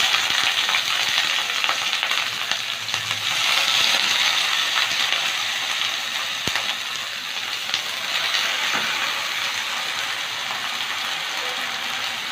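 Prawns for chingri paturi fry in hot oil over a low flame, a steady close sizzle and hiss that runs evenly throughout with no pauses.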